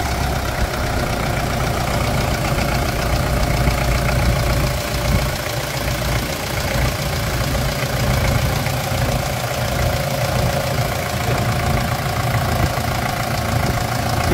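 A Toyota Hilux engine fitted into a Land Cruiser Prado idles steadily and close, a continuous low rumble with a faint ticking knock running evenly throughout.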